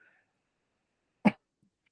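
A single sharp cough breaks the quiet during a podcast-style interview on the metaverse, brands and advertising; it is one close, brief burst with silence around it.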